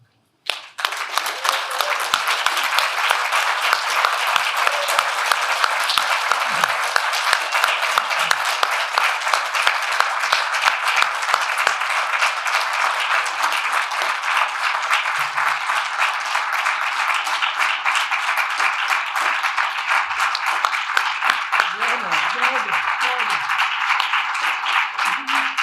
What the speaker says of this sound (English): Can I ask you to stand up and applaud them and the great Chuck Feeney?